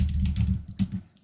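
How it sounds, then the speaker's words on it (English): Fingers tap out a short burst of keystrokes on a computer keyboard, close and fairly soft, with a brief pause before a last couple of presses. "I'm just going to type in there and type 200"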